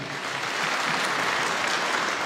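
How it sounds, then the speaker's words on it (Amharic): A gathered audience at an album launch program in a church setting claps continuously, a thick, even roar of applause rising slightly and holding steady at moderate loudness. "አጨብጭቡላችሁ።"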